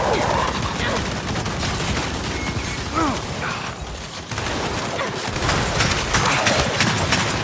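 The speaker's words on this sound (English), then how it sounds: "We can't deal with those turrets!" Enemy turret gunfire in the Gears 5 video game, a dense, continuous clatter of mechanical firing and impacts that fills the whole stretch, with brief tonal whines and shouted voices faintly mixed into the busy battle din.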